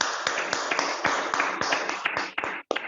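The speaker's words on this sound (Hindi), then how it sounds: "एक बार जोरदार तालियां हो जाए।" An audience gives a burst of applause for a group of direct sellers from Agartala, Tripura, at a recognition event: dense, steady clapping with sharp individual claps standing out, continuous and fairly loud, tapering near the end.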